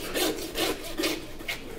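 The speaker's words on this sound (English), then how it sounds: "So I just wanna make a mark, and then I'm gonna grab my handsaw." A handsaw cuts through a lamb shoulder between the ribs with four quick back-and-forth rasping strokes, close and steady, with no talking.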